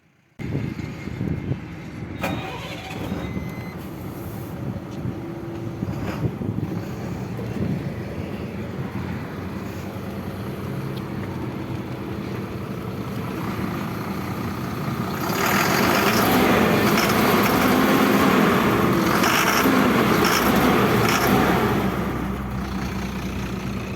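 An Ashok Leyland 1920HH six-wheeler non-AVTR truck chassis engine starts abruptly, then runs with a steady, loud diesel rumble heard from inside the cab, swelling noticeably louder partway through as it is revved.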